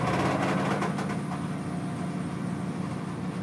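A 1980 Ford F100 truck engine runs at a steady, fast idle, a dense continuous rumble that stays loud and close for the whole stretch with no voices over it.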